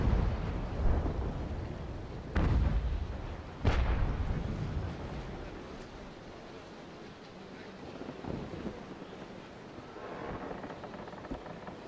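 Ship cannons firing cannonballs in the naval battle game Naval Action, heard as two heavy booms with rumbling tails over sea waves and wind, followed by quieter distant thuds.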